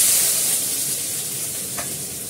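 Onion frying in a pan in a home kitchen: a loud, close, continuous sizzle and hiss with a brief spatter near the end, and no talking.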